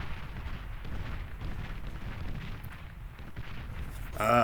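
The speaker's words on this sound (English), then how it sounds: "Stouts start to engage. Januses start firing." Units firing in the real-time strategy game Beyond All Reason, with Stout and Janus units engaging tanks: a dense, continuous rumble of battle fire and explosions at steady loudness, with a sharper burst near the end.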